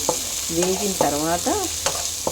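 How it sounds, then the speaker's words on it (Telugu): Beans, potato and capsicum frying in a pan, giving a steady sizzling hiss with a few stirring clinks over about two seconds, along with some brief tonal squeaks or chirps. "బీన్స్, బంగాళదుంప, క్యాప్సికమ్ ఇవన్నీ కొంచెం వేగాలండి"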